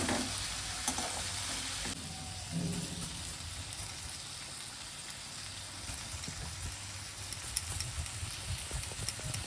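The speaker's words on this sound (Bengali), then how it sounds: "ফোড়ানো হয়ে গেলে আবার এটাকে নেড়ে দিলাম।" Masoor lentils frying in a pan while being stirred, a continuous sizzle with scraping and clinking spoon strokes scattered through, close and moderately loud, with no talking.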